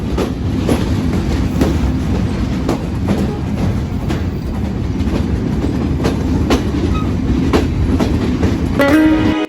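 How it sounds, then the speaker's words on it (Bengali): The Benapole Express train departs Jashore Junction, rolling steadily with rhythmic clickety-clack of wheels on the rails, loud and close, and a brief horn-like tone near the end. "ট্রেন ছাড়লো যশোর থেকে।"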